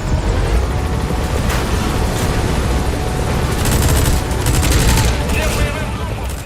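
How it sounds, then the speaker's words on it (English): A helicopter-mounted minigun firing in Metal Gear Solid V: The Phantom Pain, with loud continuous rotor drone under repeated rattling bursts of gunfire, close and dense throughout. "we'll use the helicopter's minigun to take out enemies"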